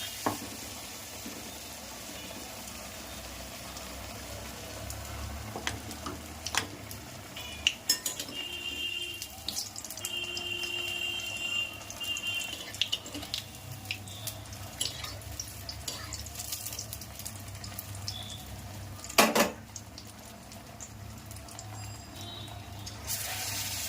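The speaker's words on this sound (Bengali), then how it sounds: "এবার আমি বেসনের গোলাতে ডুবাচ্ছি আর এই গরম তেলে" Gram flour batter-coated potato chops frying in hot oil: a steady low sizzle under scattered clinks of utensils and pans, with a sharp louder clatter near the end and no talking.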